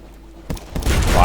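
A ship's main guns fire in Sunless Sea. A couple of sharp reports are followed by a louder, sustained roar of gunfire and ringing effects, with a faint voice underneath.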